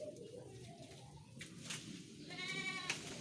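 Goats of Beetal cross and local breed bleating at a home, a few short faint calls with a brief high bird-like cry near the end, quiet background.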